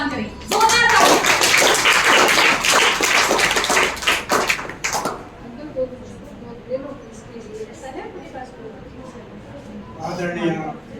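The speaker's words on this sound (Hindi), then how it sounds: "जोरदार ताली।" Loud, dense applause from a school audience at an inter-district anti-drug poster competition event, lasting about five seconds before fading into quieter room sounds and scattered children's voices.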